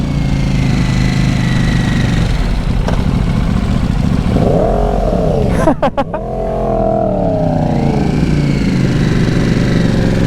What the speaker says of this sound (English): So this is a KTM Duke.